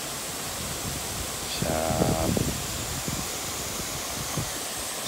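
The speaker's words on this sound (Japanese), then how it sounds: "この滝。" A waterfall at a bass fishing spot gives a steady hiss of falling water, with a short spoken exclamation near the middle.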